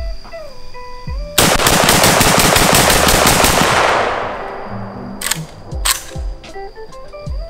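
A gold AK rifle in a video game fires one loud, rapid automatic burst of about two and a half seconds, then the shots fade out under lighter game effects and a few clicks.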